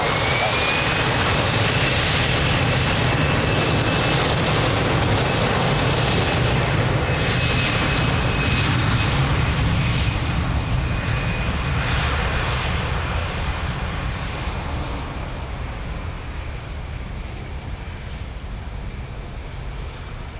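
A fixed-wing airliner taking off at Lisbon Airport, a loud sustained jet engine roar with a high whine that slowly fades as it climbs away over twenty seconds.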